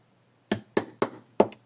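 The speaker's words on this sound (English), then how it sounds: "Tap it with a hammer." Four sharp metallic taps of a hammer striking a nail, close and crisp, the last two quicker together.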